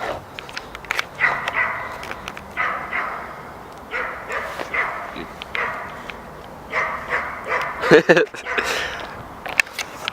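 A dog barks and yips in a run of short, sharp calls at moderate distance in a forest, spread unevenly over several seconds, with people talking nearby.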